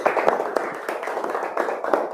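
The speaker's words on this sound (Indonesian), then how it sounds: "kasih tepuk tangan" Students clapping for a classmate in a religious studies classroom, a brief round of moderately loud, uneven applause from a small group nearby.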